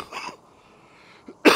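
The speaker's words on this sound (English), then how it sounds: "I still have a little bit of cough left over from COVID." A short, dry cough lingering after COVID sounds once at the start, followed by quiet, then a sharper burst of coughing at the end, in a parking lot.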